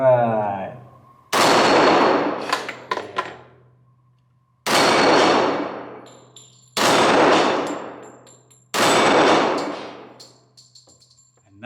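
Four loud close bursts of rapid pistol fire from a Remington 1911 R1 Enhanced .45 ACP, each volley a string of sharp cracks that rings out and fades, separated by short pauses, with no talking.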